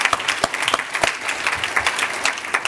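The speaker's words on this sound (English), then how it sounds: "Let's give them a round of applause." Audience at a NAACP Freedom Fund gala applauding the sponsors, a steady patter of many hands clapping together in a large room, sustained and fairly loud with no voices over it.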